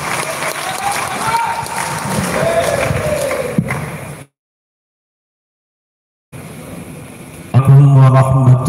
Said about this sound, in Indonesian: Tepuk tangan dulu yang meriah untuk Kiai Majuddin.